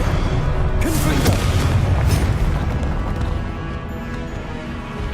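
The Confringo blasting spell in Hogwarts Legacy lands as a loud, sustained explosive boom with crackling bursts and a rumbling wash that slowly fades, dense and close throughout.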